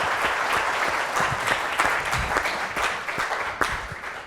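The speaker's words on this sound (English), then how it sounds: "a big round of applause for Carl" Audience applause fills the room after a film screening at a university arts centre, steady dense clapping from a large crowd, loud and continuous with no talk.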